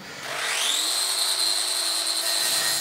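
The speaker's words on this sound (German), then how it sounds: "Mit der super Erfindung schleift er jetzt die Kanten an, damit sie etwas runder und weniger scharf sind" An angle grinder spins up to a high, steady whine, then sands the edges of a rusty car body panel in one loud, continuous grinding pass, with no voices.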